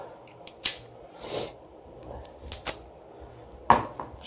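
Shrink-wrapped cards from a Faith and Redemption board game box are unwrapped up close: sparse plastic crinkles and sharp snapping ticks, separated by short quiet gaps.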